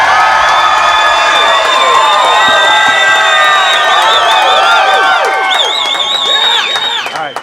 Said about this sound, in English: Big round of applause for Slash